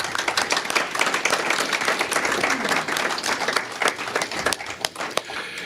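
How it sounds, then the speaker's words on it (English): A crowd gives a sustained round of applause for a man, dense overlapping claps at moderate loudness that keep up steadily and start to thin and scatter near the end. "we want to give this guy a round of applause"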